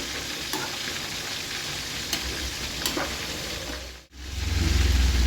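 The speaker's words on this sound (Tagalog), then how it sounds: "ito yung daming sibuyas. Yan, at atin lang pong hahaluin." Onions stir-fry in a pan while liver-and-gizzard steak is cooked, with steady close sizzling, a few sharp stirring scrapes and a brief pause before a louder low rumble returns.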